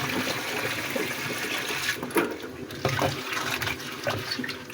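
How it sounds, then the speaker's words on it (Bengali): Noni leaves are rinsed by hand in water, with continuous splashing and swishing close by and a running-water wash throughout. "পাতাগুলো ধুয়ে নিচ্ছি।"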